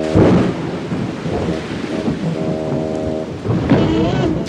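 Rain pours down over an old farm barn in a cartoon storm, with deep rolling thunder booming near the start and again toward the end under steady, hissing rainfall.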